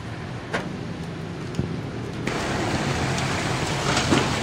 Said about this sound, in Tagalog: hintay lang natin kasi maulan, maambon-ambon